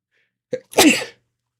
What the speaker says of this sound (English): I feel like I'm gonna sneeze. Am I gonna sneeze? Yep.